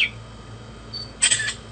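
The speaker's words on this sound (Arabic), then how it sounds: "بتصفر وشوف كيف يلتقط صورة" Short whistles aimed at a phone that triggers its camera app to snap a photo remotely: a faint high whistle tone, then a brighter, louder whistled burst near the end over low background hum.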